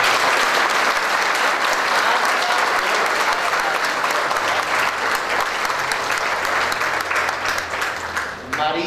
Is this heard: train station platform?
no